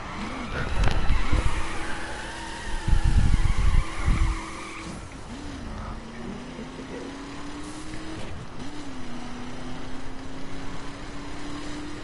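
A car in The Crew racing game, with the engine note rising and falling as it accelerates through gear changes and tires squeal in bursts, loud and close with no talking.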